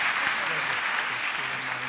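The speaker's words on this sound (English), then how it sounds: "How about a big round of applause for Savor?" Steady, dense applause from an entrepreneurship competition audience fills the whole stretch, with a voice faintly audible beneath the clapping.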